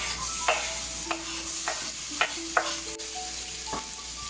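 Garlic sizzles and fries in a hot pan for adobo, a steady close crackle broken by several sharp clinks of a utensil stirring against the pan.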